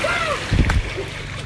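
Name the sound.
splash of someone going into water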